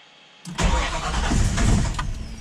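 Ford Falcon XB GS engine, running rich on too much fuel, cranks and catches after a brief quiet moment, then runs loudly at a rough, uneven fast idle close by, without talk.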